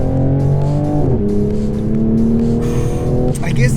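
Toyota Supra MK5 2020 engine pulling hard under acceleration, a loud, steady harmonic drone heard from the driving seat that rises in pitch, dips briefly around a gear change, then climbs again, with a voice speaking faintly underneath.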